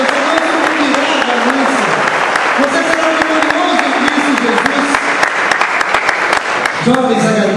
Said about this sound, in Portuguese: Aplauda o Senhor em forte, igreja.